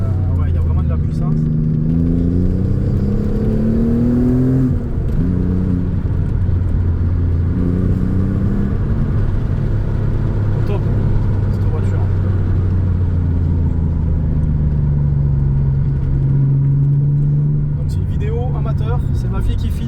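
An Alfa Romeo 147 GTA engine revs and accelerates hard, its loud, close exhaust note rising and falling through several pulls as someone talks over it.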